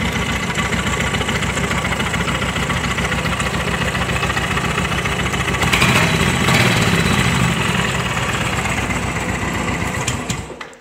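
A Royal Enfield motorcycle engine idles steadily during an oil change, a fast, even mechanical chatter, loud and close, running continuously before cutting off at the end.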